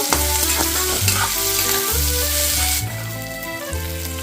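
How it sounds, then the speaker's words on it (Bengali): Chopped green chillies sizzle in a pan for a Bengali cabbage mash, a steady close frying hiss with a low rhythmic hum and occasional stirring scrapes, easing slightly near the end. "দু তিনটে লঙ্কা কুচিয়ে রেখেছিলাম ওইটা দিয়ে দিলাম দিয়ে ভালোভাবে এটা ফ্রাই করে নেব"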